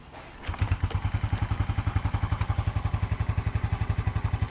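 A Yamaha Force FI motorcycle fitted with an Indoparts gearset starts up and settles into a fast, even idle, its single-cylinder exhaust thumping in a steady close pulse.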